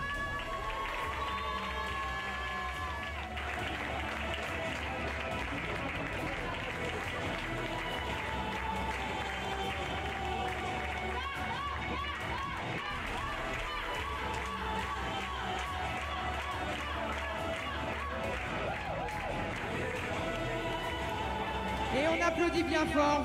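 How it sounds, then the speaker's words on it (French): Crowd applause for the podium at a pony eventing (CCE) prize-giving, sustained clapping and cheering with talk and shouts beneath, swelling near the end. "Et je vous demande d'applaudir maintenant le podium."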